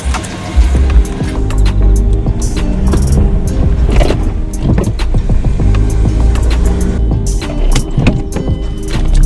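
A Mazda Axela car on a short test drive after a rear brake pad job, its engine and road noise a steady, close rumble throughout with faint mechanical clicks and no talking.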